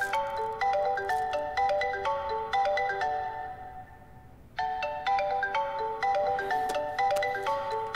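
A mobile phone ringtone plays a bright, repeating melodic chime, loud and close, pausing briefly midway before resuming, with no voices.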